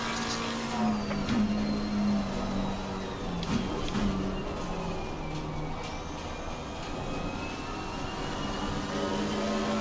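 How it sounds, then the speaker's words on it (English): A BMW race car in Assetto Corsa Competizione runs a constant engine drone with tonal whine, and tire noise shifts as it slides off the curb, a steady car sound with no talking. "BMW had a big slide off the curb."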